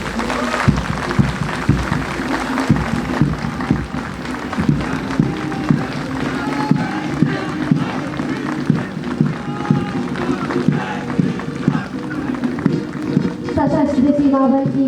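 Spectators clap for marching army contingents at a passing out parade after twelve months of training, a dense steady applause running throughout over crowd noise and band-like tones near the end.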